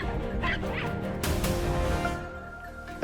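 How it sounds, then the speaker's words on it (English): Hunting dogs bark and yip during a wild boar hunt, the sound carrying from a nearby forest in a quick, irregular run of calls that stays moderately loud. "The sound of the hunting dogs echoed from the nearby forest."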